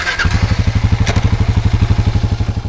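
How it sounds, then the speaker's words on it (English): A Kawasaki KLR650 single-cylinder motorcycle engine idles close by with a steady, loud, evenly pulsing thump, heard alone without any talk. "Number 13, Kawasaki KLR650."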